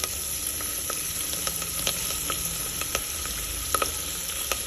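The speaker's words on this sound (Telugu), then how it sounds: "అన్నీ పల్లీలు మంచి ఒక విధమైన వేగినట్టు చప్పుడు వస్తుంటుంది, చిట్టుపట్టు చప్పుడు వస్తుంటుంది" Peanuts crackle while frying in hot oil for a tempering, with steady sizzling and scattered sharp pops and snaps at close range, and no voice over them.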